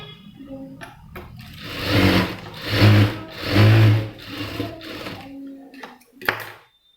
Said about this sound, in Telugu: దీన్ని ఇట్లా స్టిచ్ చేసుకోండి.